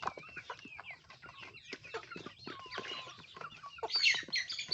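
Rhode Island Red laying hens kept in a forest plot, clucking and murmuring in a busy, overlapping flock chorus, fairly close and steady with a sharper squawk near the end.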